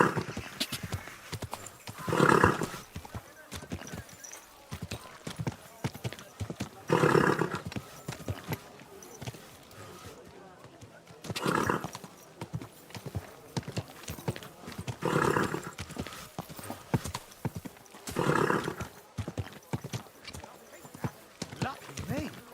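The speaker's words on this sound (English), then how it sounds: "Easy, good horse." Horse hooves clip-clop steadily with occasional loud whinnies in a medieval open-world game, a rider's voice speaking over the rhythmic hoofbeats.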